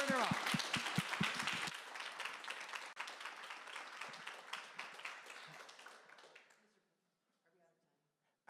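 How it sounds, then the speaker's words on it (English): An audience at a charity sing-a-thon claps in loud, dense applause that gradually fades out over several seconds before falling nearly silent. "Can we give another round of applause for Claire?"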